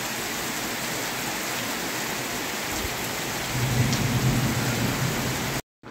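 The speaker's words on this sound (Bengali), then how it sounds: "বাইরে খুব জোরে বৃষ্টি হচ্ছে" Heavy rain pours steadily outside at night during a storm with lightning, a dense hiss joined by a low rolling rumble of thunder toward the end before it cuts off.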